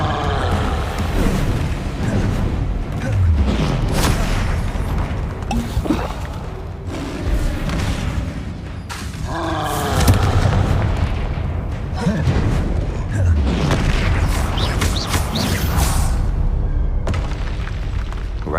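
Repeated Confringo and Repulsor spell blasts go off in the Hogwarts Legacy video game, a run of heavy booming bursts over a constant dense game soundscape, with a voice calling out at times.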